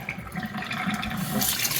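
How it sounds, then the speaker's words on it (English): Hot water runs from a tap over cornhole bags, a steady, close rushing splash with no talk over it. "Just run them under the hottest water I can get."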